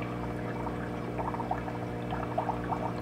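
Water pouring and trickling steadily through a Santa Monica Filtration HOG1 algae scrubber on an aquarium, with a constant low hum and small bubbling splashes throughout.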